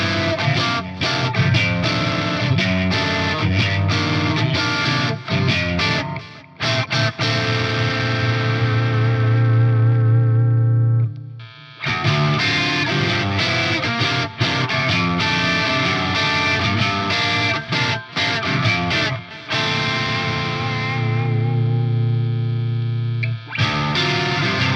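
Ibanez THBB10 electric guitar played through heavy effects with the pickup selector in an in-between position, giving a dense, distorted, chorus-tinged tone with echo; a sustained riff runs loud and continuous, broken by a brief held note and a short pause.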